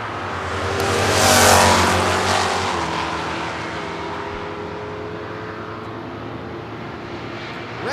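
Drag racing cars, one of them a Plymouth Duster, launch at a West Coast Hot Rod Association meet, a loud engine roar swelling to a peak early on and then fading into a steady droning rumble down the track.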